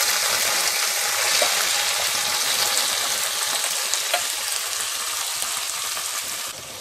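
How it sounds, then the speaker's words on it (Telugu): Boiled raw prawns and curry leaves fry in a pan, giving a loud, continuous, hissing sizzle with faint scraping from stirring, close up and steady, trailing off slightly near the end with no voices. "కలుపుతూ 2 మినిట్స్ వేయించుకోవాలి."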